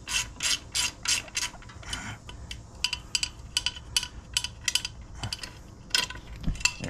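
A wrench turning the floorboard bolts on a Harley Heritage Softail makes a series of close, crisp ratcheting clicks in quick bursts, pausing and resuming several times.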